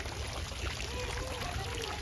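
Frog fountains spray and splash water at the Port Orleans French Quarter resort at Walt Disney World, a steady close patter of falling water with no pauses.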